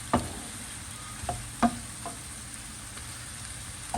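Bacon and chorizo sizzle quietly in a pan, a soft steady frying hiss broken by a few sharp utensil clicks and scrapes against the pan.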